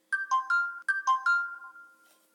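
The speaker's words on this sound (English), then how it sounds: "And my phone's beeping for some reason." A phone plays a short electronic ringtone, two repeated rising-falling tone phrases, clear and alone with no talking.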